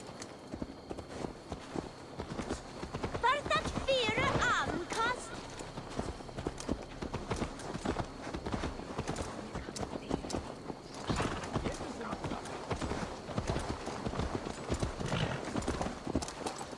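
Horse hooves clip-clop in a steady rhythm throughout Assassin's Creed Valhalla gameplay, with a brief whinny early on and character dialogue spoken over the hoofbeats.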